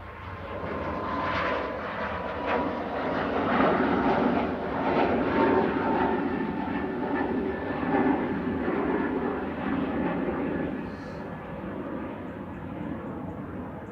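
An airliner departs Manchester Airport bound for Dublin, its engine roar broad and steady for the whole stretch, swelling and easing slightly with distance, with no voices over it.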